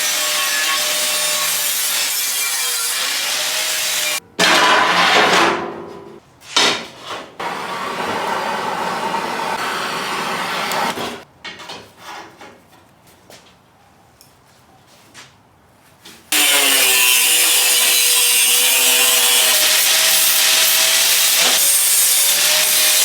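Angle grinder taking sharp metal points down on a steel smoker build, a loud, steady abrasive whine that cuts out midway into quieter scraping and clatter, then resumes at full strength.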